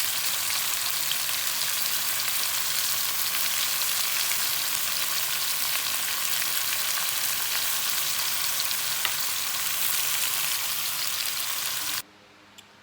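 Pork for a Jamaican-style stew fries in a pot with a dense, steady, loud sizzle like hard rain that runs unbroken and then stops abruptly near the end.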